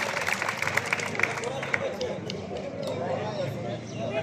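Applause from a group of people at the close of a fire drill at a Rajshahi agricultural development bank, a brief patter of clapping at moderate distance mixed with crowd hubbub and voices.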